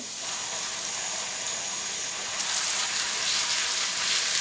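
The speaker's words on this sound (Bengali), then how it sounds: "আদা এবং রসুন বাটাটাকে ভেজে নিতে হবে একটু" Ginger and garlic paste fries with onions for a beef curry, a steady, moderately loud sizzle that grows brighter and more crackly partway through, with no speech.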